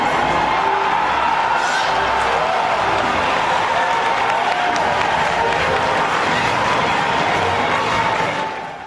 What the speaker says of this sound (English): the crowd absolutely lost it when Link appeared on his horse